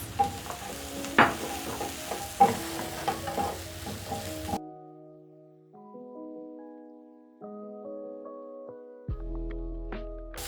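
A lentil curry with ginger being stirred in a pan, with sizzling and a run of scraping spoon strokes for about four seconds, then only soft instrumental music.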